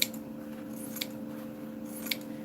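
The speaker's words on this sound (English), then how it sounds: "I'm using pinking shears just because I have them, but you don't have to" Pinking shears snip through fabric while it is trimmed to cover a manila journal cover. Two or three faint, crisp cuts sound over a low steady hum, with nobody talking.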